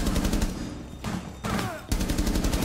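Automatic gunfire rattles in rapid, loud bursts in the tactical shooter Rainbow Six Siege, with brief gaps between volleys.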